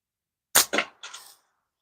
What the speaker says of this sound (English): Finally getting some shooting done.